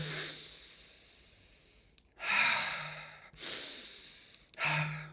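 Deep, rushing breaths during a SOMA breathwork exercise, two long audible inhales each followed by a quieter pause, close to the microphone.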